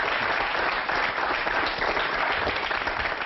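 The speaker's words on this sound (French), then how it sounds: "Sous vos applaudissements" Steady audience applause in a television studio greeting a singer, a dense unbroken wash of clapping with a slightly muffled, archival tone.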